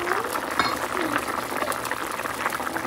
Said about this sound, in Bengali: সবজিটা ফুটে গেছে